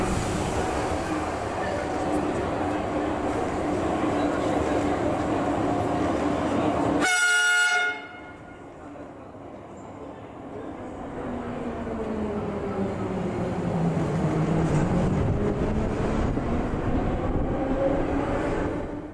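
Warsaw Metro series 81 train departing Kabaty station toward the depot: a steady loud rumble, a brief horn blast, then the motor whine rising and swelling as the train pulls away.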